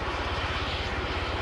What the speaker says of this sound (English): There are few planes with VTOL features in the world today